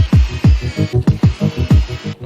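Cordless electric screwdriver driving screws into the sheet-metal body of a van being fitted out, heard as a close series of short whirring bursts in an uneven rhythm, about nine pulses in two seconds, with no talk.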